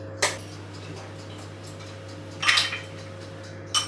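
Two eggs cracked for a chocolate mud cake: three sharp, brief taps spaced apart against a steady low electrical hum, the middle one a slightly longer crunchy crack, close and clear with no talking.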